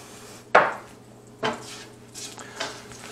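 Ground Kashmiri chili powder and turmeric being stirred in a pan for Indian palak paneer, three distinct scraping knocks of a utensil against the pan, close and fairly loud, with no talking.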